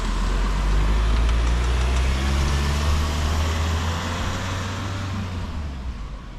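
Cars passing on a road, a steady low engine rumble and tire roar close by, fading slightly at the end with no talking.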